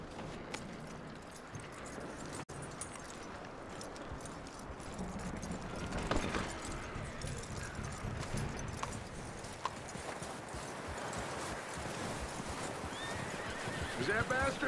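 A horse in Red Dead Redemption 2 whinnies and neighs close by while its hooves clip-clop on the ground, with voices talking over it throughout.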